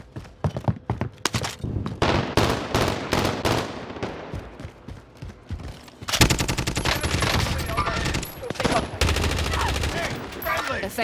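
Rapid, loud gunfire during a hostage-rescue assault, with volleys of single shots giving way to sustained automatic bursts that continue almost without pause.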